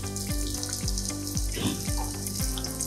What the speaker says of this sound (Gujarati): ગેસને સેટ ધીરો કરી આ હિંગ નાખી,